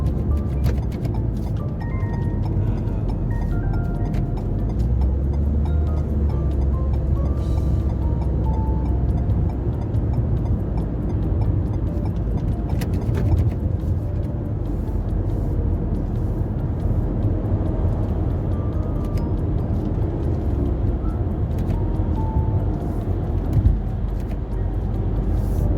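A Renault QM6 four-wheel-drive car with a newly replaced CVT, driven at low speed in heavy traffic, making a steady low engine and road hum from inside the cabin, with faint ticks and clicks and no speech.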